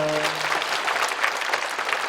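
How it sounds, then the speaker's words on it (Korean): Church congregation applauding in thanks for an interpreting pastor, a dense, steady round of clapping that fills the hall right after a brief voice at the start. "우리 정한은 목사님께 감사의 박수 하시겠습니다"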